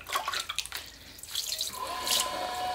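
Water splashes onto the wheel head of a Skutt pottery wheel, heard as faint irregular drips and trickling splashes, quiet and close.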